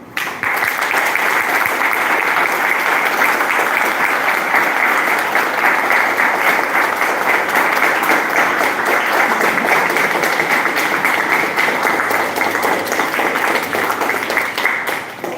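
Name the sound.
audience applause at award ceremony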